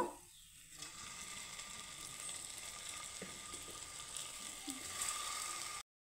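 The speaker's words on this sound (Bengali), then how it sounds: "বাকিগুলো আমি এইভাবে লাল লাল করে ভেজে নেব" Koftas fry in a pan of oil with a steady, soft sizzle that crackles continuously at low level, close and alone before cutting off.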